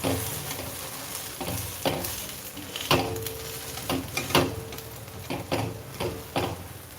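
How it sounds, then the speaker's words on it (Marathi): Jowar flour thalipeeth roasting on a hot pan, a steady soft sizzle punctuated by repeated pressing and spatula taps at an uneven rhythm, close and alone without talk. "दाबून दाबून छान आपल्याला खमंग भाजून घ्यायचंय आहे"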